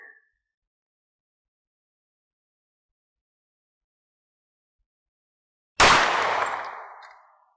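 A single sharp gunshot from a SIG 1911 in .45 ACP firing 230 grain rounds into a washing machine, a loud crack with a ringing metallic decay after several seconds of silence.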